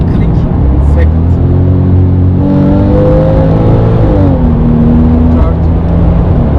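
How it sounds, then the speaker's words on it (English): Porsche 911 engine, from the 996 or 997 generation, heard from inside the car as the driver downshifts through the gears, with steady revs that step in pitch at each shift and someone talking over the drone. "Now we are in fourth gear, third, click, second"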